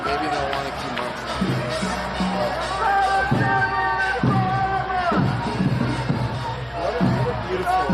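A large crowd at a protest rally march in New York City fills the air with a dense, steady babble of many voices, with rhythmic chanting surges and occasional whoops, loud and close throughout.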